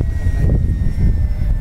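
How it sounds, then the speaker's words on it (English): A small Dynam Pitts Python RC airplane flies with a steady, continuous engine drone that stays loud and constant throughout, with no voices present. "This little plane."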